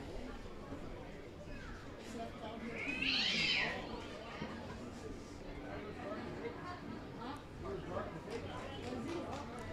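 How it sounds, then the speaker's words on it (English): An angry cat-like yowl rises briefly over the ambient noise of an outdoor state AA baseball game, and a commentator talks throughout. "Sounded like there was a mad cat for just a moment ago"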